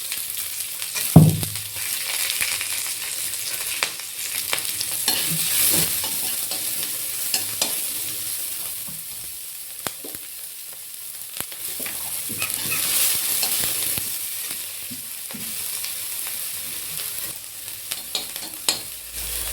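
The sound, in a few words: chopped onions frying in pan for Gobi Manchurian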